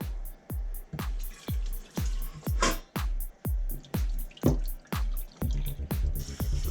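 Water running over potatoes in a bowl as they are rinsed to wash off starch, a regular series of close splashing pours and drips with a steady rhythm.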